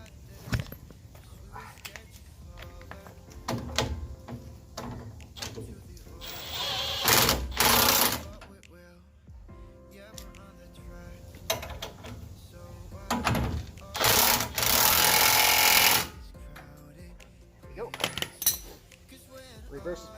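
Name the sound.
power tool tightening nut on 2015 Ram 1500 suspension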